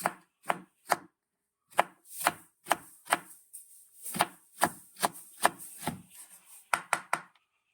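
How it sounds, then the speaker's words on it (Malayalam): A knife chops jackfruit (chakka polla) finely for thoran in about twenty sharp, close strikes on a board, irregular and quick, with short pauses between runs. "ചെറുതായിട്ട് അരിഞ്ഞെടുക്കണേ ഒത്തിരി വലിപ്പമാകരുത് ഈ പരുവത്തിന് നമുക്ക് അരിഞ്ഞെടുക്കാം"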